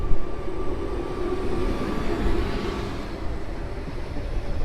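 Stadler Flirt electric multiple-unit trains pulling away from a station platform, a steady loud rumble of rolling wheels and traction hum that holds evenly throughout, with no talk.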